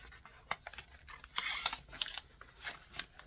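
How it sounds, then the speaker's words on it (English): Book pages folded by hand into a paper vase, giving soft, crisp papery rustles and small creases in short, irregular bursts, close and quiet. "fold it over again"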